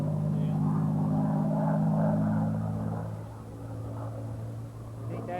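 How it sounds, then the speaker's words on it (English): A WWII airplane engine at an airshow, a steady low droning rumble with a throbbing tone that fades slightly then holds, heard from a distance. "there's no airplane that sounds neater than them, is there? They've really got a neat sound to them."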